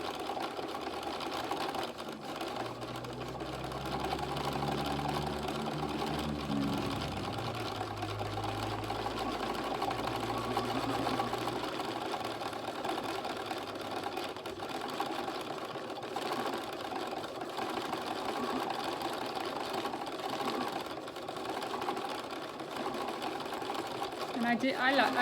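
A sewing machine stitches a fabric collage of a blue tit, running with a steady close mechanical whir through most of the stretch as someone talks over it.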